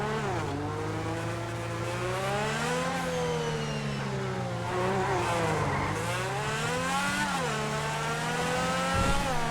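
Lampadati Tigon supercar, styled on the De Tomaso P72, driving in GTA 5 Online: a loud engine revving up and down through repeated accelerations and gear shifts, with tire squeal, alone and without music.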